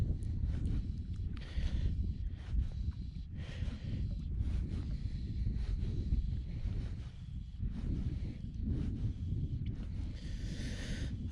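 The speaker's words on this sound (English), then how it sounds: "I sort of feel like the wind has eased a wee bit just with the sun coming out." Steady wind buffeting the microphone beside a river, a continuous low rumbling roar that swells and eases in gusts, with faint rustling on top.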